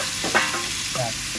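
Red amaranth greens just added to a garlic tempering, frying with a steady sizzle and a short stirring scrape, close and fairly loud.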